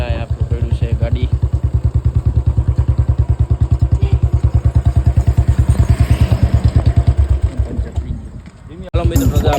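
A Royal Enfield Bullet motorcycle engine idles close by with a loud, steady, evenly spaced thumping beat that dips briefly near the end before picking back up.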